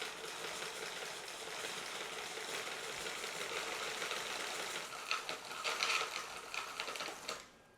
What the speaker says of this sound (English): after I reel the remaining braid on